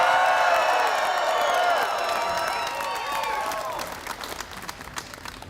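A large crowd at a farm rally cheers and applauds loudly, with whoops over sustained clapping that gradually thins and fades toward the end.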